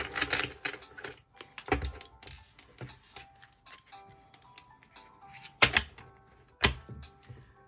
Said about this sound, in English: we're just gonna give it some extra few shuffles just to be on the safe side